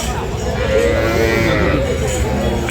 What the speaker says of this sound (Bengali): দিনাজপুর জেলার কাহারুল হাটে যে গাভী গরুগুলো রয়েছে সেই গরুগুলো দেখতে আমরা আপনাদের দিচ্ছিলাম